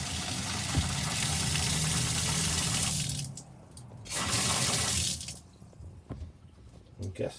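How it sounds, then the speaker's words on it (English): Water rushes from a shower tap in a Kodak Scamper camper in bursts that stop and start, with low water pump hum and brief voices in the pauses. "Let's see if the shower works."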